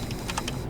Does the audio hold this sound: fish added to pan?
no